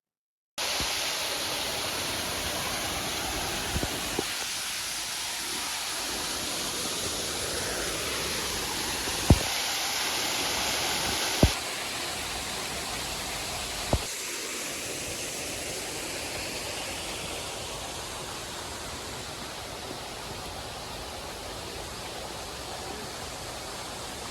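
Continuous rushing roar of Mettuguda Waterfalls, steady and enveloping, with a few faint knocks and shifts in tone along the way.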